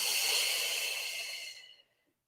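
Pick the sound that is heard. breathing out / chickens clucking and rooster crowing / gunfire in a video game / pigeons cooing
breathing out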